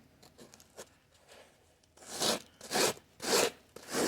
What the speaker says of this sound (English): So I'm going to use a little sandpaper.